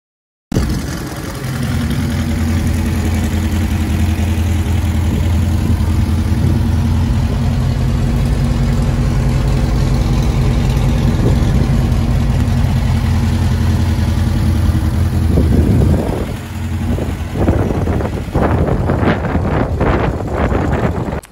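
A 1954 Alfa Romeo 1900 idles outdoors with a steady, loud low hum under heavy wind buffeting, ending in a series of sharp clicks and knocks.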